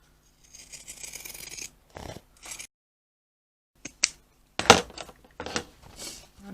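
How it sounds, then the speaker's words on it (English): Pinking shears trimming around the edge of fabric for a lilac messenger bag, giving a close, quiet series of short crisp cutting snips with pauses between them. "use your pinking shears to trim all the way around"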